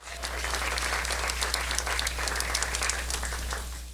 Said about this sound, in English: Give all of my volunteers another round of applause